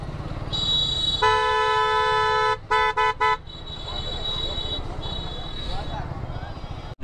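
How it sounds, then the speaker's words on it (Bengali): A Suzuki Gixxer SF motorcycle horn honks on a village road, with one long blast and then several short bursts in quick succession over the steady engine hum and road noise of the moving bike. "গ্যাপ গ্যাপ দিয়ে হর্ন মারতে মারতে যাবো।"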